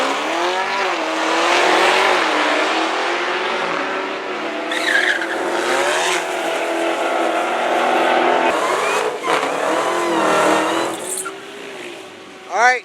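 A McLaren 720S and a Dodge Demon drag racing over a quarter mile, with loud engines roaring and shifting pitch throughout, tire squeal and skidding, and voices talking over the noise.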